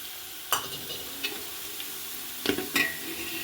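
Dry spices such as garam masala, red chilli powder and turmeric go into a pan of sizzling dal tadka, with a few sharp stirring clinks and scrapes over a steady low sizzle.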